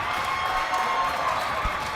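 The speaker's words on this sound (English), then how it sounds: "And the crowd erupts" A men's college basketball crowd in a gym cheers after a floater drops in, a sustained loud roar of many voices throughout.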